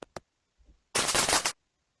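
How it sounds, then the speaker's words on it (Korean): A firecracker sound effect played in a block coding program: two sharp pops, a faint crackle, then a half-second dense burst of crackling bangs, followed by silence. "폭죽 소리로 바꿔주도록 합니다"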